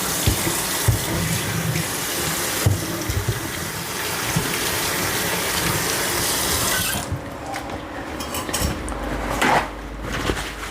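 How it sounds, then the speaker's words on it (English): Tap water runs at a kitchen sink while a hand is rinsed, a steady close splashing rush that shifts and thins partway through, with faint clinks and no talking. "let me just rinse off my hand."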